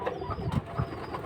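A Jalali pigeon gives a short, soft, low coo close by, heard alone.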